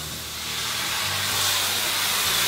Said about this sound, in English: This is known as deglazing when you add a liquid to a hot pan.